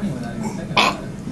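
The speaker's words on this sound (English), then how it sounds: "Come on, burp for your brother." Baby letting out a single short burp, brief and fairly close, after a moment of quiet with soft voices nearby.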